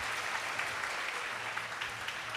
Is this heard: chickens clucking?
no